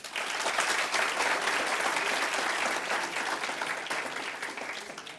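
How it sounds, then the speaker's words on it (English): A seated audience at an open forum applauds the panel, a dense, even wash of many hands clapping that holds steady at full strength for about five seconds before easing slightly, with no voices over it. "a big round of applause for our panel"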